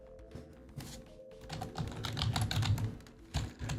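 Rapid typing on a computer keyboard, irregular bursts of close, crisp key clicks that build and thicken in the middle, heard alone without talk.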